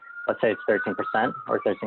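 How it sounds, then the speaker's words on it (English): A steady, high police siren wail from a New York city street holds under close, continuous talking throughout. "And I apologize about the sirens."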